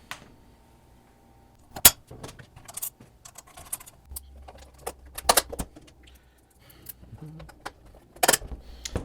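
Bolts clink and scrape into place as a rear fender extension is fitted, a handful of sharp metallic taps and rattles spread across the stretch with quiet pauses between, close by and with no talking.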